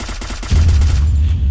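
Rapid automatic gunfire from a shooting video game, a dense burst of loud close shots that gives way to a heavy low rumble.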